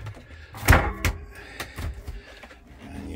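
A home freezer door in a kitchen opens and shuts, giving a sharp thump followed by a softer knock and a few light rattles, fairly close and brief.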